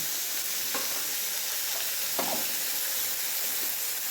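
Vegetables with salt for chirer polao sizzle in a frying pan, a steady close hiss broken by a few scraping stirs of a spatula, with no talking.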